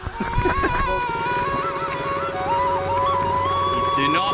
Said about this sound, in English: This is a demanding road on a road bike.